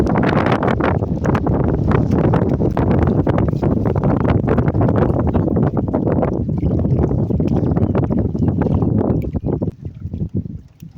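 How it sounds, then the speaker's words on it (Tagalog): Strong wind buffets the microphone in a loud, continuous rumble with gusty crackles, easing slightly near the end. "Paparamdam na yung hangin."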